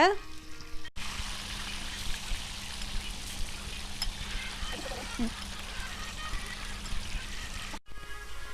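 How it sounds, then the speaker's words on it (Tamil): Chicken pieces, marinated and added a little at a time, fry in hot oil in a pan, a steady dense sizzle running throughout with faint clinks; no one speaks. "நம்ம சிக்கனை ஃப்ரை பண்ணி எடுக்க போகிறோம்"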